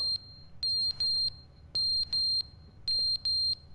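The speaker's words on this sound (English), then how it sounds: "Smoke detector." A smoke detector in The Stanley Parable video game chirps in pairs of shrill, steady electronic beeps, repeating three times with short silent gaps between, loud and clear with nothing else over it.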